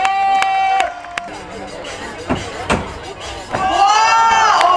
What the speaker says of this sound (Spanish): ¡Un aplauso para Conejo,